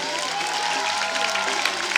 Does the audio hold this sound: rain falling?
no